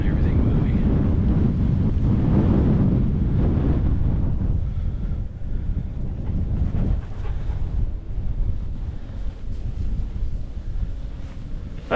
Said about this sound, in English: wind is pretty much coming right at us.